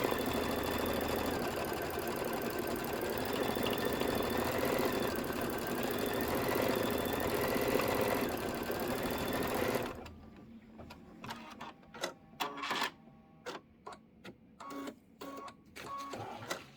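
An embroidery sewing machine stitches a quilt block design with a loud, fast, steady mechanical chatter for about ten seconds, then stops, leaving scattered softer clicks and handling knocks.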